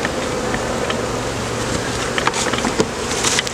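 Honey bees buzz steadily over a hive frame during a spring colony split, a continuous close drone with faint rustling and clicks from handling the frame.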